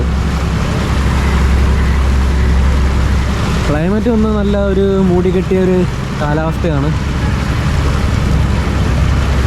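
A passenger boat on the Alappuzha backwaters under overcast, pre-rain skies gives a steady, loud rumble of engine and water, with someone talking over it for part of the ride.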